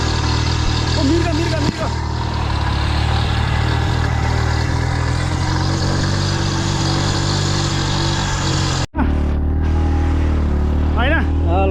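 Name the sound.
motorcycle riding off-road with three people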